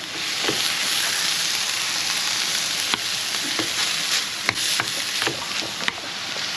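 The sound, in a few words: bacon, onion and mushroom frying in a pan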